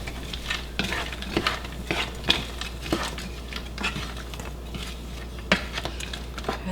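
Peas and carrots sauté in a pan for chicken fried rice, giving a steady, close sizzle broken by frequent scraping stirs and light utensil taps against the pan, with no voices.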